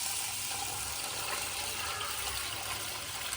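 Water runs steadily over half a kilo of old basmati rice being rinsed before soaking for biryani, a continuous close splashing wash with no talk.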